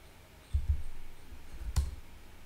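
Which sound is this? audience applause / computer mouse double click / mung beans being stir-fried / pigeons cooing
computer mouse double click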